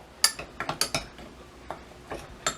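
A spoon stirs a homemade seasoning blend in a bowl, giving a quick series of light metallic clinks and taps in uneven bursts, close and fairly quiet, with no voices.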